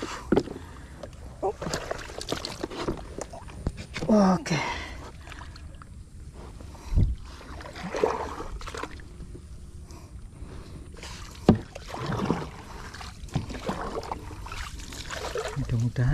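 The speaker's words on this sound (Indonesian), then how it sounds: "Kita gunakan perahu untuk nyebrang ke kanal yang lain." Small boat crossing from one canal to another: water sloshes and laps against the hull, with knocks and bumps from the boat and scattered voices talking over it.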